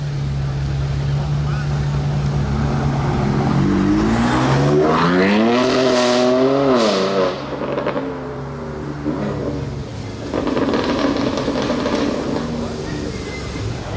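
A Porsche 911 GT3 RS drives past with a rising, then falling engine note as it accelerates and sweeps by, loud and close, followed by other traffic noise and background voices.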